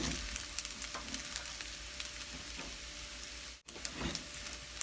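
Sinangag, Filipino garlic fried rice, frying in a pan gives a soft, continuous crackling sizzle with scattered pops and occasional stirring scrapes, steady and fairly quiet throughout.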